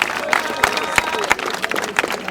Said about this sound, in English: A round of applause, please, for this person